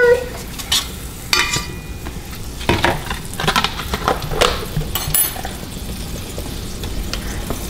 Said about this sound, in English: So I'm gonna get some butter and oil for this pan, and we're gonna blacken this fish up.